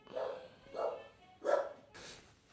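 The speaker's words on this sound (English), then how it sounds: "dog barking interruption there" A dog barks four times indoors at a steady pace, muffled and somewhat distant, heard alone without talk.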